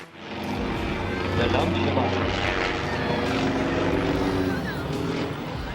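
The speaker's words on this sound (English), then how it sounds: "The custom-built red biplane was performing aerobatic maneuvers and did a downward spiral, but failed to pull up." A custom-built red biplane flies aerobatic maneuvers at an air show, its propeller engine droning loudly and continuously, swelling slightly as it passes, with voices underneath.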